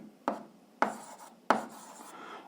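Pen or chalk strokes while an algebra solution is written out, three sharp, close taps with short scratchy tails, spaced roughly evenly apart.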